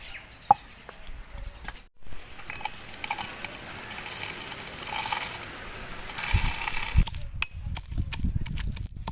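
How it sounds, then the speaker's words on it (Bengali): Dry-roasted whole spices for a Bengali amra (hog plum) pickle are ground to powder, a loud, continuous rattling mechanical whir that runs for several seconds, then stops, followed by some brief clicks. "মশলাটা এবারে গুঁড়ো করে নিতে হবে।"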